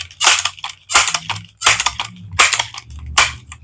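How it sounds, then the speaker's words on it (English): Five loud, sharp bangs from a small pump-action rifle shooting tiny targets, spaced roughly evenly, each hitting the microphone hard with a quick decay and faint mechanical clicks in the gaps. "I know that bang is really loud in the microphone."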